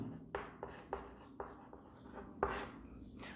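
Chalk or marker writes vector notation on a classroom board in quick, close scratchy strokes with sharp taps, a handful in irregular rhythm, with no voice over them.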